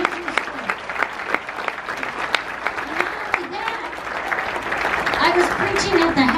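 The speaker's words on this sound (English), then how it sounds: "Clap your hands." Church congregation clapping hands together, a dense, steady wash of applause that swells toward the end, with a voice talking over it.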